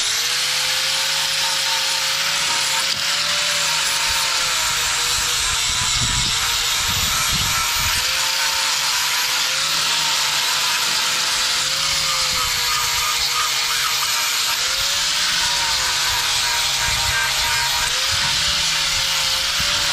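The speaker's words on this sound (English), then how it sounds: "let me go get the grinder. All right, so flapper wheel almost worn out, engage." Angle grinder with an almost worn-out flap wheel grinding metal while fitting a drop bumper to a cabover truck, a loud continuous whine with a slightly wavering pitch lasting the whole stretch, unbroken by talk.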